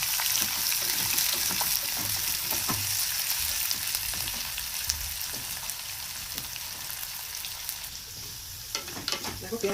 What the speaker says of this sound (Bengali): দেখো পেঁয়াজ ভাজা হয়ে গেছে